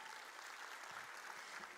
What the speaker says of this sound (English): let's give ourselves a huge round of applause for that